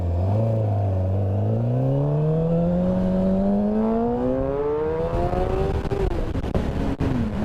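A Suzuki GSX-R 750 K6 sport bike engine revs loud and close, its pitch climbing steadily through the gears over several seconds before backing off with rough, crackling engine noise.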